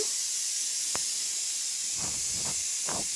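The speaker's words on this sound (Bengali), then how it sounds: "এবার আমি এগুলোকে ফ্রাই করে নেব নিয়ে নিচ্ছি এখানে আমি ভেজিটেবিল অয়েল" Samosas deep-frying in hot vegetable oil over low to medium flame give a steady, even hiss, with a few soft bubbling bursts near the end.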